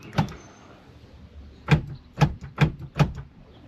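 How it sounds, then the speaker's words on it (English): Power door locks on a Fox body Mustang actuating, a brief click followed by four evenly spaced sharp clunks in quick succession, close and fairly loud in a quiet garage. "So if we hit door lock and unlock here,"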